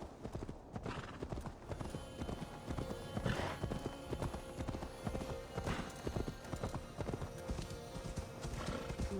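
Steady clip-clop of horse hooves with occasional whinnies in the video game Assassin's Creed Valhalla, continuous and fairly loud against a busy background, no talking.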